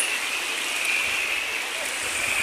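Sea water washes at the shore at sunset during fishing, a steady, soft, even hiss of moving water with no break throughout.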